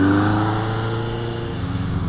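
1982 Kawasaki KZ750 LTD motorcycle engine, running lean with an exhaust leak, revs and settles back with a rough, uneven drone close by; no one speaks.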